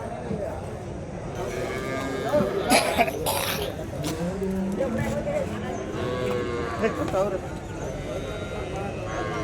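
Cattle and calves moo and shuffle at the Mattrapalli village cattle market, with nearby hooves and coughs under steady talking from the crowd.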